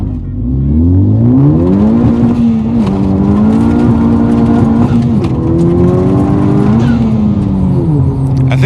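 A Honda Civic Type R making over 400 wheel horsepower launches hard in a 0-60 run with traction control off, the engine roaring loud and close as it revs up steadily through the gear.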